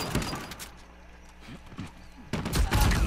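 Video game gunfire crackles in rapid bursts at the start and again near the end, loud and close, with a quieter stretch between.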